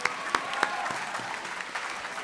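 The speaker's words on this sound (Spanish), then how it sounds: "Vamos a darle un fuerte aplauso por estos dos videos." Audience clapping at a social-organization presentation event, a brief steady burst of applause with a few sharper claps standing out near the start.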